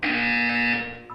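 Buzzer in the video game Portal 2, a single loud harsh electronic buzz held steadily for about a second before cutting off.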